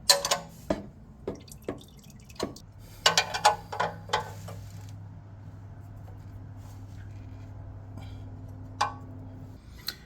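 Coolant dripping from a Ford Taurus with a suspected failing water pump, a handful of sharp, close drips and ticks spaced irregularly at first, then quieter with a faint steady hum beneath.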